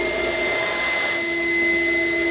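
An SD15 Sump Shark coolant vacuum discharges through its hose with a steady, loud whooshing roar and sustained tonal whine that holds constant for the whole stretch.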